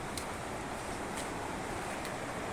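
Water from an underground river flows through a cave at Teleng, Pracimantoro, making a steady, dense rushing wash that is moderately quiet and unbroken, with no voices over it.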